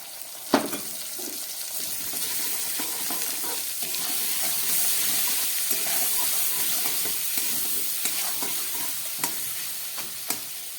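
Potatoes frying in a pan with ginger paste and spices, a steady close sizzle and hiss with intermittent stirring clinks and scrapes throughout, no voices.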